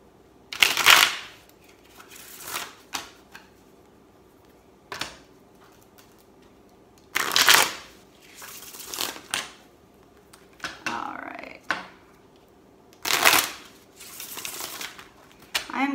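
Tarot cards being shuffled close up in repeated bursts of quick riffling flutter, separated by short pauses.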